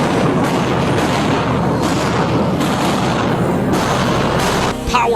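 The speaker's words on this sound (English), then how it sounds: "Police fire rubber bullets at students as cops reclaim the building from occupying" Rubber bullets fired by police clearing occupying student protesters from a building at UCLA, a dense, continuous crackle of shots and booms under a loud crowd din, with a faint voice heard briefly.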